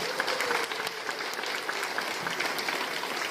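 Steady applause from a lecture audience at a quantum information and communication technology talk, many hands clapping continuously at moderate volume with no pauses.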